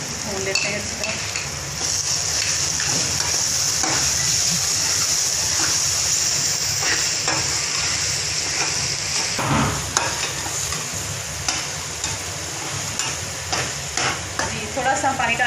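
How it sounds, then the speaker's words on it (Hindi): Spice masala of turmeric, salt and red chilies sizzles and fries steadily in a pan for karela gosht, a bitter gourd and meat dish, with a spoon scraping and stirring through it, close and continuous. "इसको हम भून लेते हैं अच्छी तरह"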